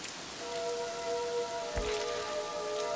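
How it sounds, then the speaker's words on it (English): Cartoon rain falling steadily as a soft, even hiss, with a thudding impact near the middle and faint tonal music running underneath. "It's starting to rain."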